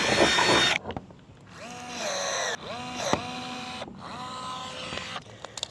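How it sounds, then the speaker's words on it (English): Rivets go in along a seam of an enclosed trailer. A harsh opening burst is followed by three whining power-tool runs that spin up and cut off, each ending in a sharp snap, close and loud. "So what I'm gonna do is add rivets all along this seam here."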